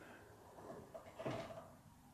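A car door swings open on a cold winter day, giving one soft, brief clunk midway through an otherwise quiet, faint stretch with no talking.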